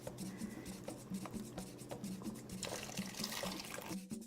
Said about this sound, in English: So now I'm going to go ahead and add my broth to it.